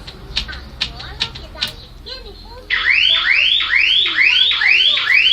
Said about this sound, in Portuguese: Parou o alarme, ó.